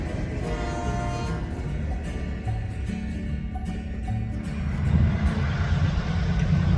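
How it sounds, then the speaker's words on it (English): An Alexander Railroad freight train rolls into Statesville Yard, a continuous low rumble of locomotive engine and rolling cars with tonal horn-like notes, growing slightly louder toward the end. "the train arrived into Statesville Yard"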